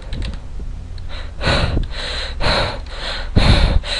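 Clattering bursts of typing on a computer keyboard, close and loud, in uneven clusters of keystrokes separated by short pauses, with some breathing nearby.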